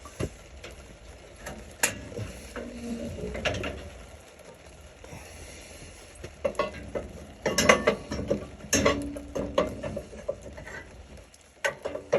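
Vermeer 252 chip plow being lowered into place, with close, quiet mechanical clicks, ratcheting and rattles coming in irregular bursts and short pauses between them, no voices.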